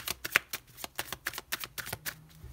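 Tarot cards handled and laid down on a surface, a rapid series of crisp card slaps and riffles at an irregular rhythm, close and fairly quiet with no talking.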